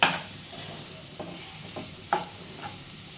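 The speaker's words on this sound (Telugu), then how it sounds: "ఇలాగ వేసుకున్న తర్వాత దీన్ని బాగా కలుపుకుందాం" Chilli masala being stirred into a carrot and coconut curry in a pan: a few distinct spoon scrapes and knocks against a steady low sizzle, fairly close, with no voices.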